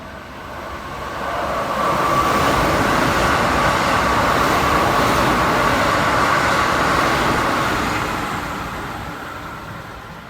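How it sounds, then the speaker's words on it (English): A train passes through Nanamugi station at speed in Japan, a loud steady rush and rumble of wheels that swells in over two seconds, holds, then fades as it goes by. "that chime you hear at Nanamugi here tells us that a train's about to pass through at speed"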